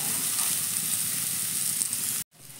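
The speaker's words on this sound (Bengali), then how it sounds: "দেখো ফুলকপিটা কিন্তু এখানে আমার প্রায় ভাজা হয়ে এসছে।" Salt-soaked cauliflower nearly done frying in a kadai crackles in a loud, continuous sizzle that cuts off abruptly near the end, then resumes more softly.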